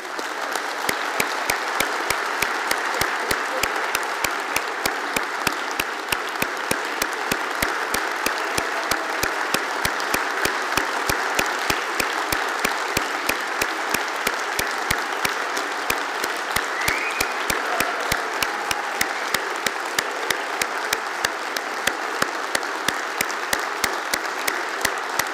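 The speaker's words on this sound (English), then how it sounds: "Should we give them a round of applause?" A congregation claps at a church licensing service in a long, sustained round of applause that holds an even level throughout, with no speech over it.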